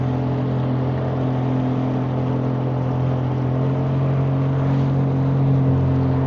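A jet ski engine roars steadily at high revs while crossing a swollen, fast-flowing flooded river at night, loud and continuous with a droning hum and no talk over it.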